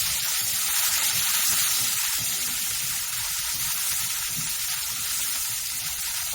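Sliced onions frying in hot oil with turmeric for a broccoli and pea sabji, a steady close-up sizzle and crackle that holds evenly throughout with no talking.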